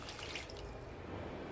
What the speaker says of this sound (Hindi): अब पानी डाल देंगे।